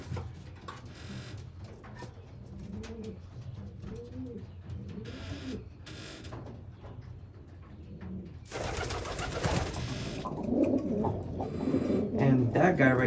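A racing pigeon coos softly in a loft, with repeated low, burbling calls near the start, while someone talks nearby and a loud rustle or scrape breaks in later.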